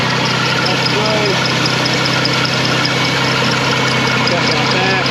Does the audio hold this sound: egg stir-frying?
no